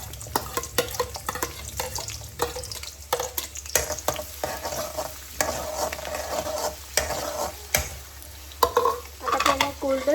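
Onions drop into very hot oil and fry while being stirred, producing a lively, uneven sizzle with frequent spatters and scraping stir strokes, close and moderately loud, with no talking.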